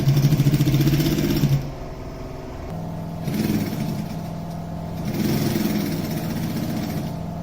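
A sewing machine stitches the zipper strap of a backpack front pocket in bursts, a buzzing motor whir that runs, pauses and starts again several times close by.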